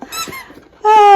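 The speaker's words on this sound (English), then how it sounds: "I'm too busy killing this squeak" Squeaky toy giving a bright, loud, close squeak that holds steady at the end, preceded by a few softer broken squeaks.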